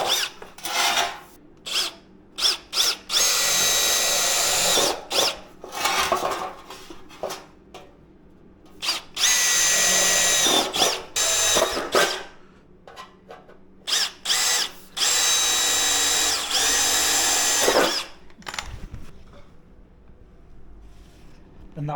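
A power drill bores holes in a replacement sill panel on a Skoda Fabia vRS during rust repair, in repeated loud whining bursts of a few seconds each with short pauses and clanks between, close up.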